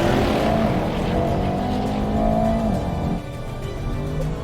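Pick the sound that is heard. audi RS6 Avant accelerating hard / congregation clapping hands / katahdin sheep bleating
audi RS6 Avant accelerating hard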